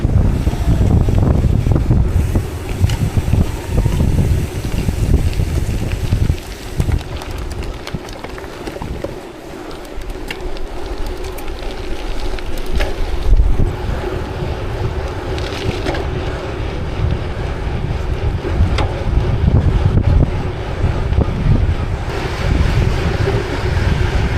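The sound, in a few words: strong wind blowing during a gravel bike race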